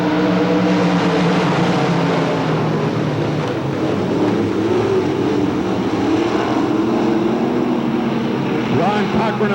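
Dirt track race cars roaring off at the green flag start at Hamilton County Speedway in Webster City, Iowa, 1993, a loud dense engine din that swells as the pack accelerates, with a commentator's voice partly mixed in.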